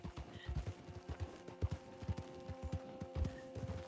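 Wild horses trot across open ground in a cowboy video game, giving a quiet, steady patter of hoof clip-clops in an even rhythm throughout.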